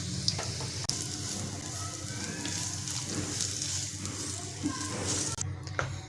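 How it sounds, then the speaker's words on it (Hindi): Chopped carrots sautéing in hot oil for vegetable egg rolls, a dense continuous sizzle up close with a few soft stirring knocks and a brief clatter near the end. "तो सबसे पहले हम अपनी जो गाजर है उसे सौटे कर लेंगे"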